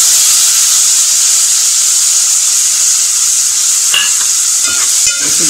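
Raw jackfruit pieces sizzle loudly and steadily as they are stirred in a pan over medium heat for a Malvani-style vegetable dish, with a constant frying hiss and a few utensil scrapes near the end.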